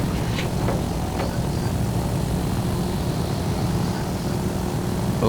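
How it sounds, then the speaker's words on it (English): Aircraft engine spinning up in the X-Plane 11 flight simulator, the right engine of a propeller plane starting: a steady, loud droning rumble with a faint higher whine, continuous and without talk. "Let's fire up right engine."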